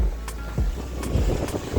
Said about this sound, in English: So right now I'm at the beach in Naples, Florida